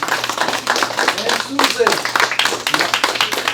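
An audience at a small café date-night show claps in a brisk, dense burst of applause. Someone speaks briefly over the clapping.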